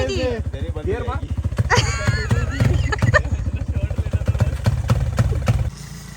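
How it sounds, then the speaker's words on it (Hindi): A repaired motorcycle engine runs close by with a rapid, chugging idle throughout, while people talk loudly over it; the engine drops off near the end. "बाइक चल पड़ी है, ऑन हो चुकी है।"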